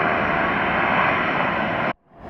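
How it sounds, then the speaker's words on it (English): A Southwest Airlines Boeing 737 taxiing at Hartsfield-Jackson Atlanta airport, a loud steady jet engine roar and hiss held close for about two seconds before cutting off abruptly. "It's a Boeing 737 operated by Southwest Airlines."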